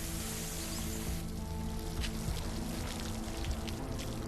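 Water from a fire hose fed by a water main sprays steadily over an aircraft, a continuous broadband hiss and patter like heavy rain that holds at an even loudness throughout, with no voices.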